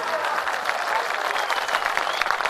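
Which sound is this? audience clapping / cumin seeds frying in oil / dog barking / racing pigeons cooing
audience clapping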